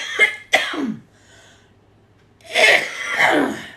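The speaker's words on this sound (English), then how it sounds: "I gotta get my coughs out first." A person coughs twice in quick succession, then after a short quiet breathy pause lets out two more harsh, forceful coughs, close and fairly loud with no talking.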